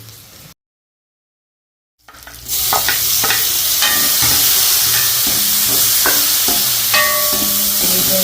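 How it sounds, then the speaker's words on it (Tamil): Garlic sautéing in a pan during home cooking in Jaffna, with loud, close sizzling and frying after a brief silent gap, plus repeated scraping and clinking strokes of a utensil stirring against the pan, no voices. "உள்ளி நல்லா வதங்கிட்டு நல்ல வாசனையாக இருக்கு"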